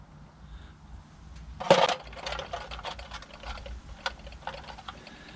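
A metal 3/8 drive socket extension is dropped back into a tool box, giving a sharp clatter of metal on metal followed by several lighter clinks and rattles as other tools shift.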